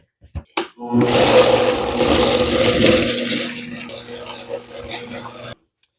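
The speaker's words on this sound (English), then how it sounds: "Now we blend." A blender whirs loudly and steadily for about four seconds, puréeing parsley, anchovy fillets, pepper and neutral oil into a dressing, then winds down into scattered clicks and rattles.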